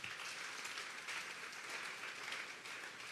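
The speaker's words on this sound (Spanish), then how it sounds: "Denle un fuerte aplauso pues al Señor esta tarde." Congregation at a Sunday church service applauding in a steady, dense wash that holds at an even level throughout, sounding moderately distant and soft, with no voices standing out.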